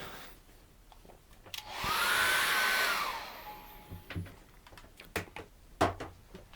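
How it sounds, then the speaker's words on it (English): A hair dryer whirs loudly for about a second and a half while drying acrylic paint, then shuts off, followed by scattered taps and knocks nearby. "Now I'm going to dry that off with a hairdryer."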